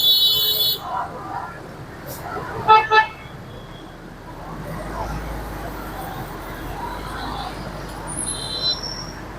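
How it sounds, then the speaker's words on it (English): Car horns toot in busy Hanoi street traffic, several short bright honks early on and a few higher beeps near the end, heard over a constant low rumble of passing vehicles with voices faintly mixed in. "they do a lot of horn honking here"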